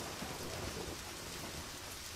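Steady rain in the video game Deadly Premonition hisses in a dense, even wash with no pauses, faint and distant-sounding, with no voices.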